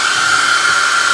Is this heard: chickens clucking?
no